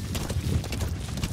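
A horse gallops in the video game Metal Gear Solid V, its hooves drumming in a fast, steady clip-clop that stays loud and close throughout.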